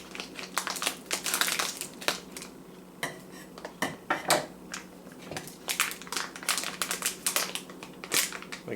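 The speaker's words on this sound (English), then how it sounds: "I'm going to use my scissors to cut a spout" Scissors snip a spout into a plastic waffle-mix bag in a kitchen, giving a quick run of close, crisp clicks and crinkles, with short pauses between bursts and no talking.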